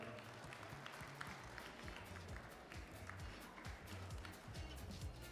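An audience at a live cooking show welcomes a guest with steady, continuous clapping heard at a distance, faint and even throughout.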